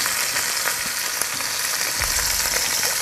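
Butter sizzles steadily in a pan with beef ribs and stock, a loud continuous frying hiss with small crackles and a low thump near the end, no voices.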